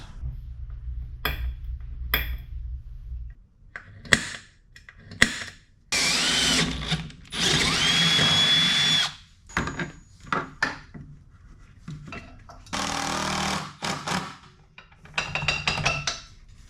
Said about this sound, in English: So I'll drill those out.